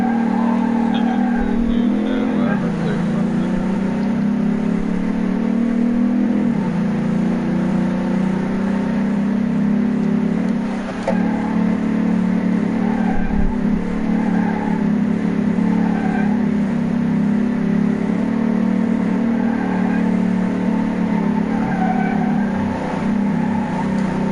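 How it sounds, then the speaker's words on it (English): A car engine in Car Mechanic Simulator roars loudly and steadily, revving with shifting pitch and occasional surges, sustained throughout with brief tire noise. "Guys, this car is freaking loud."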